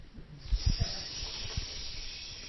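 A voice imitates a trout sizzling in a pan, giving a soft, breathy hiss with a few brief crackly bursts near the start that settles into a steady faint hiss.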